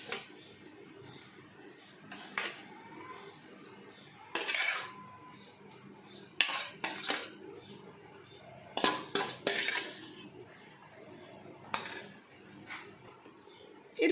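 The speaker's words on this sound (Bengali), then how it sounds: "মিক্সচার বাটির মধ্যে নিয়ে নিচ্ছি টক দই" Sour yogurt being spooned into a mixing bowl for a sweet dahi lassi, heard as several sharp clinks and scrapes of a spoon against the bowl, spaced out and close, with no talk.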